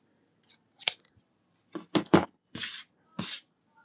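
Scissors snip through string during a stuffed plush craft project, with about five or six sharp, close cuts in quick irregular bursts separated by short silences.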